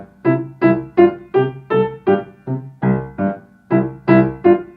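Piano notes played one after another at a steady, even pace, about a dozen single tones, each struck clearly and left to ring briefly before the next.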